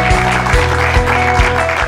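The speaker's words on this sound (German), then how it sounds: "es ist auch Ihr Applaus" Applause from a seated audience at an ASB care campaign event in Bottrop, a continuous loud clapping wash with a low tonal hum and a few soft thumps running underneath.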